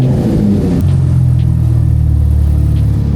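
A Cadillac CT4-V Blackwing's deep aftermarket exhaust revs up loudly, then settles into a steady low rumbling idle, close by and with no talking.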